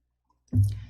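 A single computer mouse click while selecting the Insert tab in PowerPoint, a soft, close, isolated tap in otherwise quiet surroundings.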